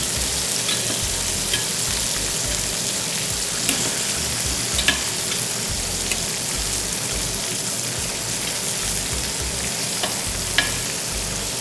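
Chicken pieces dry-frying without oil in a pan for white jollof rice, giving a dense, even crackling sizzle that runs steadily for the whole stretch, with a few faint clicks and no talking.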